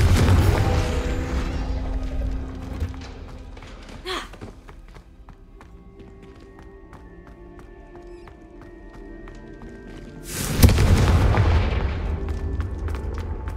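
Confringo fire spells explode in the Hogwarts Legacy video game. A sharp blast is followed by a quieter stretch, then a second, louder burst that leaves a rumbling tail.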